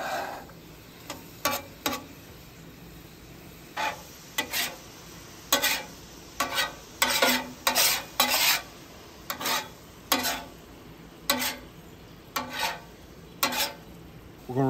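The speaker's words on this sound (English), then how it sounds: "We're going to reduce it one more time. See how we're picking up that heat?" Moonshine peach sauce reducing on a hot Blackstone griddle gives a low, steady sizzle. Repeated rasping spatula scrapes and stirring strokes come in irregular bursts across the griddle top, close and fairly loud, with no talking.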